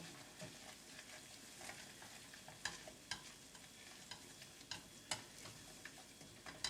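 Butter and flour being whisked together in a pan for a lasagna cheese sauce, a faint steady scraping and stirring with a soft sizzle underneath and light clicking taps of the whisk against the pan.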